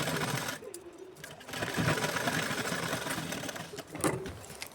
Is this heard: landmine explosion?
no